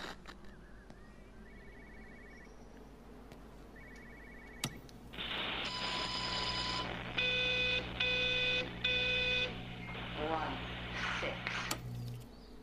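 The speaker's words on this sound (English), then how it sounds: "I hear a phone." In the video game Everybody's Gone to the Rapture, a telephone rings in repeated electronic bursts of bright tones, loud and near, after a quieter stretch with faint beeps.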